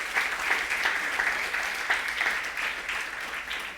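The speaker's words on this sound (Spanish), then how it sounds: "Le damos un aplauso al Señor por eso" A church congregation claps together in a sustained, even burst of applause, fairly close and loud, with no voices over it for nearly four seconds.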